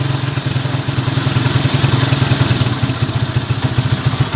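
A motorcycle engine idles steadily after a carburetor cleaning and tune-up, with a fast, even low putter and some clatter, loud and close throughout, no voices.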